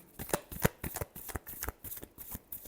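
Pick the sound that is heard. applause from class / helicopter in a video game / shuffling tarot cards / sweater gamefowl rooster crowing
shuffling tarot cards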